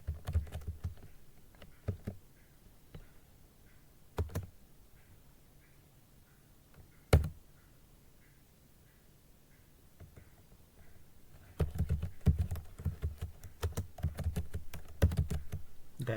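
Keys clack on a computer keyboard as a command is entered during a Windows 11 install, with scattered sparse taps, a sharp louder stroke midway, then a denser burst of rapid typing at the end.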